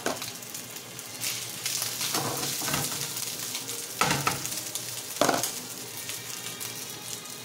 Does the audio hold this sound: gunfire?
no